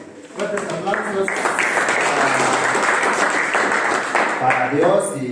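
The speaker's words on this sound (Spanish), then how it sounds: "fuertes aplausos" Loud applause from a class, dense clapping that swells quickly and holds steady, with voices and a few shouts mixed in near the start and end.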